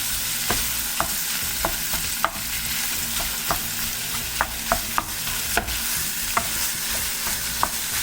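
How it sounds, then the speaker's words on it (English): Minced meat frying for a meat pie, a constant sizzle broken by regular sharp clicks of a spoon scraping and tapping the pan as it is stirred. "And just stir that till it's fully cooked, so you have to keep stirring."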